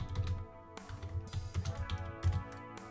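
Keys tapped on a computer keyboard, a quick irregular run of close clicks with short gaps between bursts.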